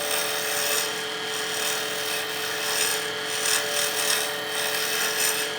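A pen blank spins on a wood lathe while a gouge shaves it, giving a steady close whirring hum with a continuous scraping, rasping hiss that swells and eases gently as the tool moves along.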